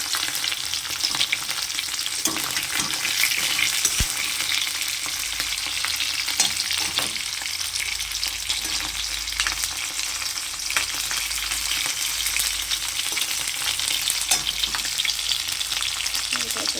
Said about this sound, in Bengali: আমি পনিরগুলো তেলে ছেড়ে দিয়েছি, ভাজা হচ্ছে এখন পনিরগুলো